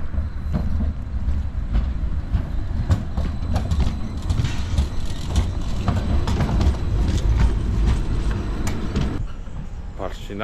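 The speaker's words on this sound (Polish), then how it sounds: "Na to nawet mi się udało ująć tramwaj wyjeżdżający z zupełnie innej bramy niż zazwyczaj." A tram rumbling and clattering nearby as it pulls out of the Podgórze tram depot in Kraków, with low mechanical roar, metallic clicks and occasional voices in the background.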